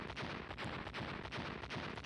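Spaceship cannons and lasers fire in the space game Galaxy as a dense, continuous barrage of loud booming blasts, with rapid repeated shots overlapping into a rumbling roar.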